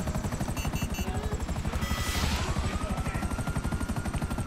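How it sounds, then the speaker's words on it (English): Rotor chop of a Buzzard attack helicopter in GTA 5 Online, a steady rapid rhythmic thumping that continues throughout with a brief burst of noise midway, loud and close. "He thinks we're gonna come after him with the helicopter."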